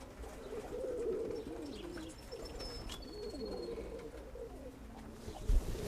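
Tippler pigeons coo in soft, repeated low murmurs inside a loft, with a few faint higher chirps and a light knock near the end.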